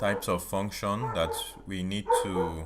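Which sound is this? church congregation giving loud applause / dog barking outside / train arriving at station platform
dog barking outside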